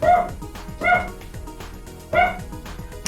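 A pet dog at home barks by a window, three sharp, loud barks spaced about a second apart over a steady background of electronic music.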